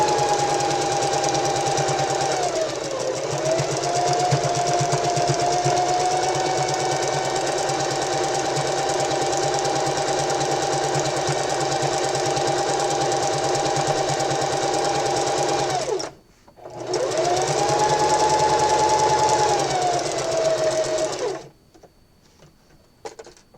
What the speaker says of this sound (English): you just want to make sure your fabric stays under the presser foot